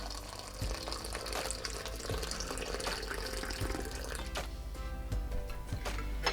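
Water poured onto orange leaves and lavender in a pot, a steady splashing fill that runs close and moderately loud, with faint clinks and small knocks now and then.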